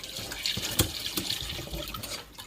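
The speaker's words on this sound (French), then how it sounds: "Rajouter de l'eau froide pour arrêter la cuisson." Cold tap water poured over cooked farfalle pasta in a strainer, a continuous close splashing rush with gurgling spatter, steady and fairly loud for a couple of seconds with no talking.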